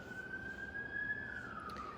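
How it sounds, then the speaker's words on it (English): A police car siren wails faintly outside, a single sustained tone that drifts slowly in pitch, distant and steady beneath low room noise. "I have police cars here."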